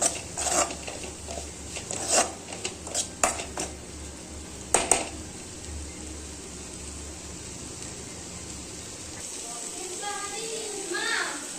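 Green chillies and chilli powder are stirred in a pan. A spoon clinks and scrapes against the metal several times in quick succession, then fades to a soft hiss, with faint background voices.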